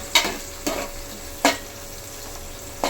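Onions frying in a pan for chicken khurma give a soft, steady sizzle, broken by four sharp scrapes of a spoon stirring against the pan, close and quiet with no voices.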